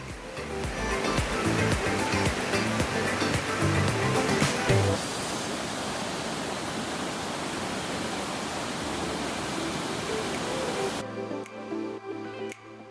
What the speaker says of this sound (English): The sparkling, cascading streams create large pools of cool, refreshing mountain water